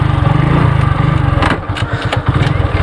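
A motorcycle engine runs close by with a fast, steady, loud idle chug that then falters into uneven, sputtering bursts near the end.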